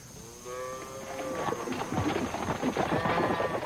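Cattle low and moo several times at a ranch set up for running a healthy herd through a sulfur dip, the calls drawn out and overlapping against a steady outdoor background with faint voices.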